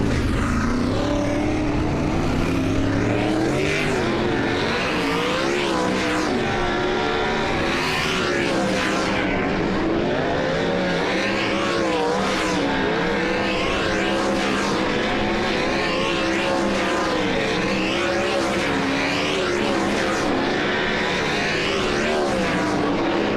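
Sprint cars at speed during a race-ready hot lap session at Lawton Speedway, engines roaring loudly and continuously as they rise and fall through passes with sweeping pitch changes, no talking.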